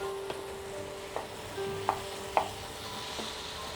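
Potatoes and peas are gently stirred in a pan, with a spoon giving several sharp scraping taps against the metal over a soft, steady sizzle.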